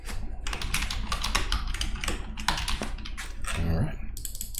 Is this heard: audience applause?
no